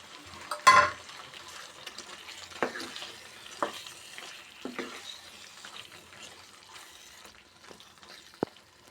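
Rohu fish roe and fish pieces fry in spiced oil with a quiet, close sizzle; a sharp splash marks them going in, then scattered scraping stir strokes follow with no speech.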